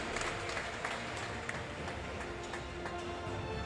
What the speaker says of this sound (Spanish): Forte o aplauso aos xogadores e o corpo técnico do Mecalia Atlético Guardés.